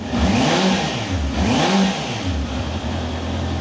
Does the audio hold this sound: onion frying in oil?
no